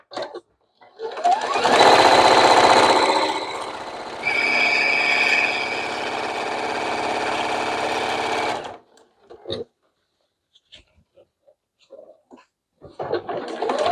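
A sewing machine stitches rows of selvage quilt blocks, with thick pellon in the layers, in a loud close whirring burst of several seconds that shifts pitch midway, followed by softer handling clicks and brief talk.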